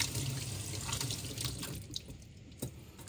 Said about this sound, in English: Let me just wash this off.